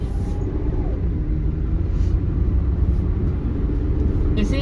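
Low, steady drone of a 2004 Ford Mustang with the 3.8 V6 under way, a dense rumbling engine and road hum that stays even throughout, heard from inside the car at moderate level.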